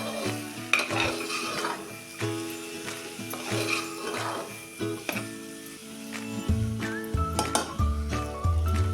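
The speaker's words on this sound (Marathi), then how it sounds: "आता असं हे एकसारखं परतून घेऊया" Val bean curry with chutney being sautéed in a pan, a close, soft sizzle under repeated spoon scrapes and metallic clinks on the pan, with a few sharper knocks near the end.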